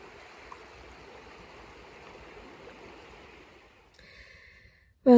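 The River Tweed flowing near Abbotsford House in the Scottish Borders, a soft continuous stream wash heard from a distance, fading slightly before a brief clatter and a sudden loud noise at the very end.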